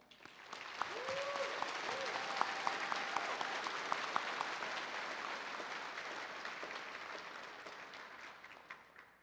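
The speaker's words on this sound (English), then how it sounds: "let's give them all a round of applause" Applause from a graduation convocation audience swells quickly to a broad, steady clapping that holds for several seconds, then gradually thins and fades near the end, with a faint voice briefly audible early on.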